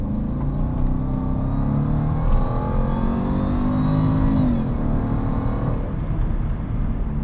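A 2011 Jaguar XJL Supersport sedan under hard acceleration in sport mode, its engine rising in a loud, steady roar with rising pitch that shifts once partway through, heard close from inside with no talking.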